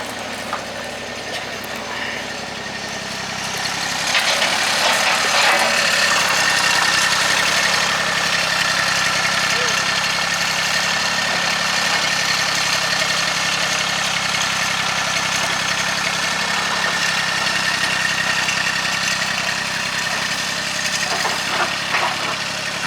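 A small tractor engine idles steadily and close by, a continuous low rumble with a mechanical rattle that swells slightly a few seconds in, then holds.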